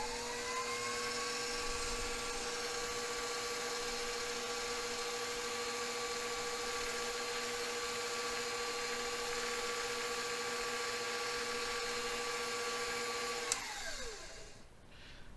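Electric stand mixer with a whisk attachment mixing cinnamon roll ingredients, a steady high motor whine held for about thirteen seconds before winding down and stopping, close and alone.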